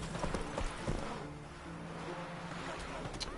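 Horse hooves clip-clop steadily in The Witcher 3, a quick rhythmic run of hoofbeats close up over a low game ambience with a faint rush like water or wind.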